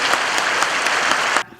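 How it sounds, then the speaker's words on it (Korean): A packed church hall of about 3,000 people claps warmly for a missionary, a dense burst of applause that stops abruptly near the end. "뜨거운 박수로 우리 선교사님을 맞이하도록 하겠습니다."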